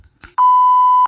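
A censor beep: a short clipped vocal fragment, then a single loud, steady pure tone held for about two thirds of a second, close and clean.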